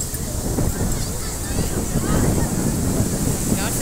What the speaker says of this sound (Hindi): समंदर बहुत रफ हुआ हुआ है